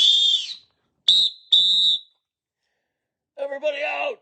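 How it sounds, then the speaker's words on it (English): Sharp high whistle blasts from a lifeguard at the beach, sounding as one long blow, then two short bursts, then a warbling final blast, all loud and close. "The lifeguard heard her and blew his whistle."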